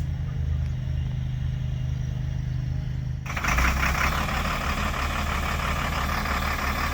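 Unimog U500 expedition truck driving a trail, heard from inside the cab: a loud, continuous engine drone and road rumble that swells into a broader, rougher roar midway, with no voices.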